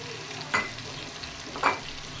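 Green chilies and spinach frying in tomato masala for gobhi chicken, a soft steady sizzle with two brief scraping stirs, close and alone.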